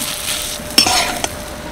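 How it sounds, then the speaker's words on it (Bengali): Gobindobhog rice and grated coconut frying in a pan make a soft sizzle, with two brief scraping stirs of a utensil against the pan. "দেখো চাল আর নারকেলটা হালকা ভাজা ভাজা হয়ে গেছে"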